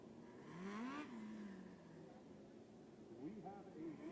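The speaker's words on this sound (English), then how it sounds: "The next 3 cars and drivers you'll see on the racetrack" Race car on a racetrack during Hyper Racing 600 time trials, engine whining and revving up and down at a distance, faint under a loud announcer's voice.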